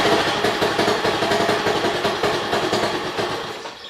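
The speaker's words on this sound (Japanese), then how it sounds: "とりあえず何の調整もしないでエンジンかけてみたんですが、エンジンのかかりが悪かったですね" A Honda 2 hp outboard motor runs with a busy, rough putter at a steady level, then fades toward the end as it starts to stall.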